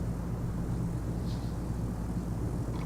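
Steady propeller-plane engine drone from the Dovetail Flight School simulator, a continuous low hum with tonal bands, holding evenly throughout without change in throttle.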